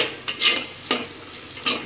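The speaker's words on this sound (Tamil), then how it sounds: "இதை வந்து நம்ம நல்லா கிளறி விட்டுருவோம்" Food being stirred in a hot frying pan for dried-fish curry: a spatula scrapes in a few quick strokes over a soft background sizzle.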